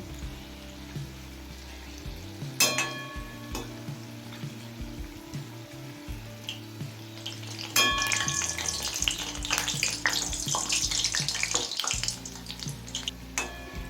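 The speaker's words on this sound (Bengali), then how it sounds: "এখন উল্টে পাল্টে বড়া দু পিট গোল্ডেন ব্রাউন করে ভেজে নেবো" Steady sizzling and crackling of banana fritters frying in hot oil, with occasional clinks and stirring noises that grow busier toward the end.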